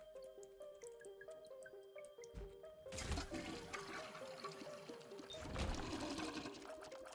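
A toilet flushes in the video game Binding of Isaac, a loud rushing swirl of water cutting in over bouncy game music and surging again a few seconds later.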